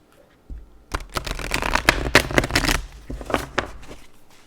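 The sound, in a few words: shuffling tarot cards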